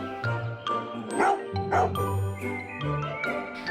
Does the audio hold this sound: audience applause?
no